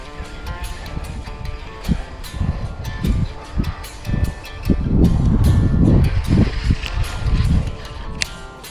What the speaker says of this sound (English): Man, that wind is just kicking.